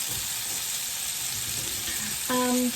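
Thick steaks frying in a pan give a steady, moderate broadband sizzle that runs throughout, with a brief tonal clink near the end.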